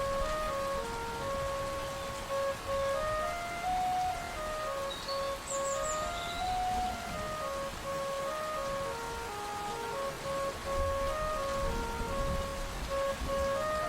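Cartoon rain falls steadily as a soft continuous patter, while a simple chiming melody plays over it throughout.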